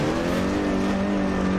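Rally car engine in Richard Burns Rally, a steady loud drone with a strong harmonic whine held throughout and faint tire noise, with no talking.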